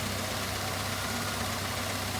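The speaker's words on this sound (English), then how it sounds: "It's idling real low." A Mazda B2300 pickup engine idles low and steady, a dense continuous hum with a faint wobble running unbroken throughout, close and loud with no talking.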